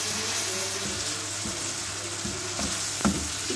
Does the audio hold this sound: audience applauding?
no